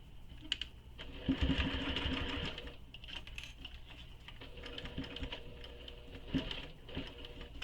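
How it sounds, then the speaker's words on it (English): A sewing machine stitches a seam in fabric for a garment pattern, running in two steady whirring bursts with a short pause between, close and moderately quiet. "I'm going to go and sew this with the seam allowance given in the pattern."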